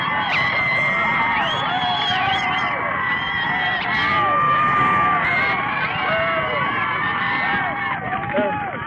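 A high school football crowd cheers loudly and continuously at a 1984 IHSA playoff game, a dense roar of voices and whoops with someone speaking over it.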